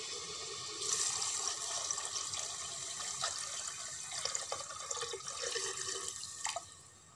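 Water is poured from a glass into a pressure cooker holding green moong dal, a splashing, trickling fill with several surges and drips, close and fairly loud.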